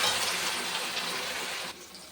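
Water pours into a pan of spices frying with turmeric, Kashmiri chilli powder, salt and a little cumin powder for biryani meat: a steady, close rushing hiss that runs for almost two seconds, then drops to a softer sizzle.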